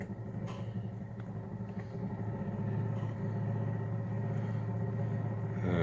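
The engine of a DC generator used as a battery-bank charger rumbles steadily, then grows a little louder and fuller as the throttle is opened, a close, low drone with a few faint clicks and no talking.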